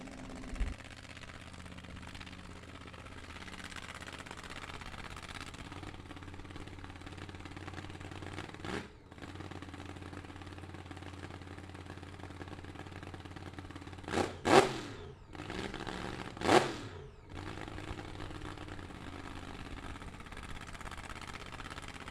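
A 1930 Ford Altered drag car makes a solo run at a vintage drag strip in Indiana, its engine a low, steady drone that rises into two sharp, loud revving bursts near the end.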